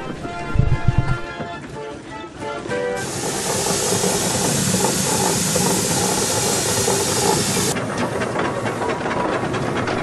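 Steam traction engine at an agricultural show, a loud steady hiss of escaping steam holding for several seconds, with mechanical clanking and engine noise around it.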